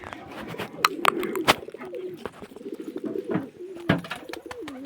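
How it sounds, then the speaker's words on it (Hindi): A flock of domestic pigeons kept at home coos with low, rolling calls, mixed with sharp wing claps and flutters. The birds are close and fairly loud. "अपने सारे कबूतर बाहर है"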